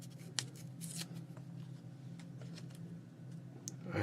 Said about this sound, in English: And then this piece I need to tear down quite a bit.